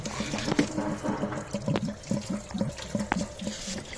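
Coolant leaking from a bent hose with a clamp on a Toyota Avensis 2.0 D4D, a steady wet trickle with a regular pulsing rhythm, heard up close.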